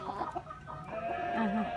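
Chickens cluck softly and repeatedly nearby, with a few higher chirps over a faint background murmur.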